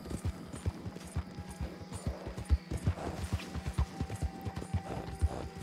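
Horse hooves clip-clop along a muddy road in the video game Red Dead Redemption 2, a steady, close, rhythmic trot of distinct low thuds that continues evenly without pause.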